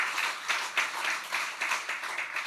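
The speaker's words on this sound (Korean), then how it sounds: "다시 한번 경의의 박수하겠습니다" Applause from a church congregation after a choir's song: a dense, even wash of many hands clapping at moderate volume, with small swells in loudness.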